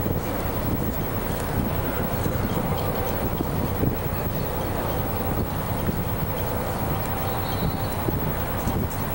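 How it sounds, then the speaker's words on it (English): Strong wind roars steadily into the microphone at a cold nighttime high school baseball game, a constant loud broadband rush that buffets and fills the whole stretch with no voices. "Strong wind blowing tonight."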